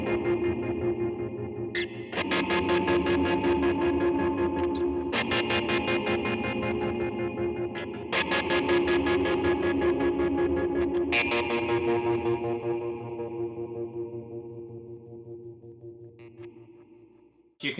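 Electric guitar chords through effects pedals, heavily processed with distortion and chorus, swell into thick, synth-like sustained tones, restruck every few seconds before fading out.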